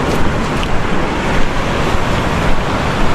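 Sea surf washing onto a shore at a fishing spot, a steady broad wash of breaking waves with wind noise, continuous and fairly loud with no voices.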